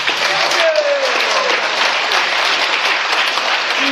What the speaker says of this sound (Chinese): 再一次掌声